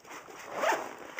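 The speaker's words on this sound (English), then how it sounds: "Let's unzipper that." A Maxpedition 8x10 pistol case being unzipped, one soft continuous zipper pull that swells in the middle, quiet and close, with no talk.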